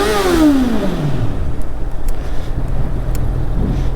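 A Honda CBR650 motorcycle engine, loud and close, with its pitch falling from a high rev to a lower, steady drone over a few seconds.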